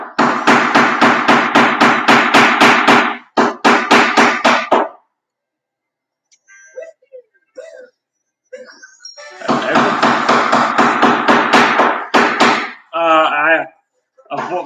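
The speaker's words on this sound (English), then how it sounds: "We got some hammer going on here, so I hope y'all don't get a headache from all that noise." Loud, rapid hammer blows strike in dense, rhythmic bursts, a long run followed by a short one. After a quiet gap with faint scattered clatter, another sustained stretch of hammering begins and ends in a brief ringing, warbling burst.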